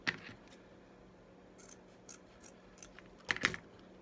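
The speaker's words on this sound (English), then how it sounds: "Let's cut our dovetail." Scissors snipping a dovetail into thick, heavy painted burlap ribbon, a sharp cut at the start, a few faint rustles, then a louder double snip near the end, close and quiet.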